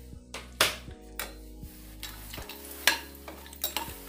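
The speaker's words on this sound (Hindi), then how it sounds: "हम इसमें डाल देंगे दाल मखाना, क्योंकि दाल मखाना घी ज़्यादा सोखता है। तो इसको आप इसको फ्राई कर लीजिए।" Makhana fried in ghee in a pan while a spoon stirs, giving soft sizzling under repeated scraping and clinking strokes, close and fairly quiet.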